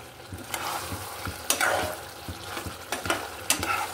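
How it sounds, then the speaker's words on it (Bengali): Meat being stir-fried kosha-style in a pan, loud close sizzling with rhythmic spatula scrapes and knocks against the pan, no voices. "আর একটু কষাতে হবে মাংসটা। মাংসটা যত কষাবো তত মাংসের টেস্ট বেড়ে যাবে।"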